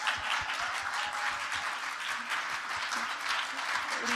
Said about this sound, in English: guys, a big round of applause for us